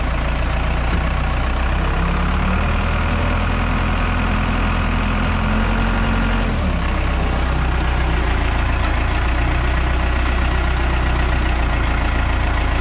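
A Case backhoe idles with a steady, heavy low engine drone, and partway through a brief change in tone and a clunk mark the transmission shifting into gear before the idle settles again.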